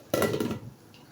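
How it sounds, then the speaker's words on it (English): A lid goes onto a pot of Nigerian party jollof rice, a single close metallic clank with a brief rattle as it settles, then quiet kitchen background. "so I want to cover it now"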